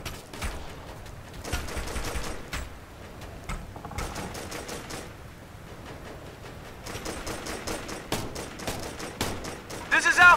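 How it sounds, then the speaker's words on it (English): Rapid gunfire from the PC video game Operation Flashpoint crackles in dense, repeated bursts throughout, with combat noise and game voices mixed in. "Team, we're taking heavy fire!"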